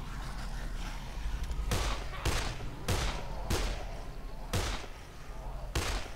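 Gunfire from the zombie game Dead Island: six loud, sharp shots fired one at a time at uneven intervals of roughly half a second to a second, each with a short decay, over a constant low game rumble.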